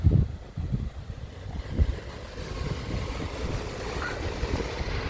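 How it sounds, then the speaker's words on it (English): Strong wind gusts rumble and buffet against a parked camper van at night, a low, uneven roar that swells and eases without pause. "Thought I'd show you how windy it is tonight."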